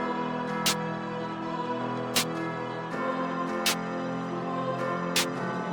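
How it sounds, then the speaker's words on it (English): Sharp, crisp claps snap at a steady interval over a sustained, droning synth backing in a looping beat, with no voices. "I want to lay down the clap."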